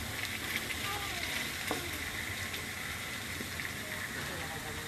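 Wild boar meat sizzles as it cooks, making a steady, fairly quiet hiss with scattered faint pops throughout.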